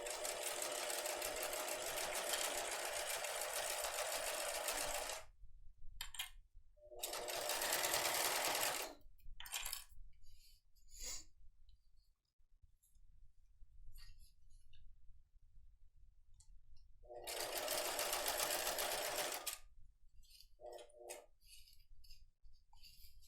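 A sewing machine fitted with a Teflon foot stitches vinyl in several bursts of steady, fast whirring, separated by near-silent pauses with faint handling clicks.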